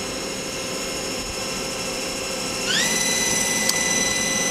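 The main spindle of a Star SV-32J Swiss-type CNC lathe spins up with a rising whine that climbs in steps and then holds a steady high tone. Constant machine-shop hum sits underneath, with a faint click near the end.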